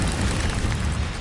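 Incendio fire spell cast in Hogwarts Legacy, a dense roaring whoosh of flame that fills the whole moment, loud and steady with no voices over it.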